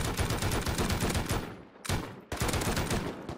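Rapid bursts of loud automatic gunfire in the video game Rust, nearly continuous, broken by two short pauses.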